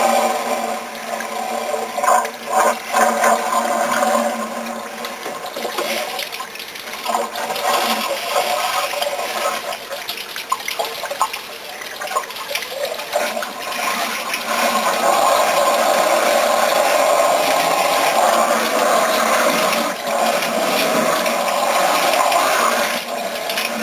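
Water gushing steadily out of a car engine hose, a loud, near, continuous rushing splash lasting many seconds that surges and swells in strength toward the end, with no talking.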